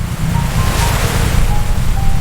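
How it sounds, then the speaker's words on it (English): Water churns loudly and continuously in a chip factory washing vat as fresh potatoes plunge in, a heavy, surf-like roar with constant rumble and no speech. "The fresh potatoes take a plunge into crystal clear water."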